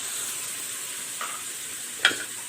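Chicken stock being stirred in a hot pan for shawarma sauce, a steady low sizzle with a soft scrape and then a sharper clink of a utensil near the end.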